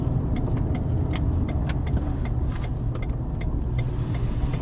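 A car drives through a hilly residential town, its steady mid-pitched engine and tyre rumble continuous and fairly loud from inside, with faint brief clicks on top.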